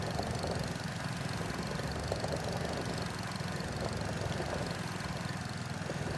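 A tractor engine idles in the video game Farming Simulator 25, with a steady, slightly knocking mechanical drone that holds constant and moderately quiet, with no talking.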